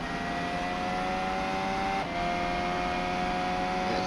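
A Formula 1 car on a qualifying lap at the Spanish Grand Prix screams past at a distance, a thin, high engine whine holding steady with a brief gear-shift dip midway, under a constant background wash.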